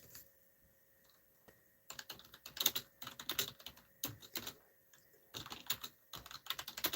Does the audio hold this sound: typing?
yes